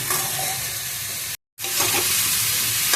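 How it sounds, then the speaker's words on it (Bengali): Jackfruit frying lightly in a pan, a steady broadband sizzle that continues under gentle stirring, briefly cut off by a short silent gap midway before resuming just as loud. "হালকা ভাজবো, অল্প একটু নুন দেবো।"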